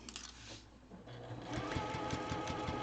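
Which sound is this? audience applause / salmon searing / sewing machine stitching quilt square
sewing machine stitching quilt square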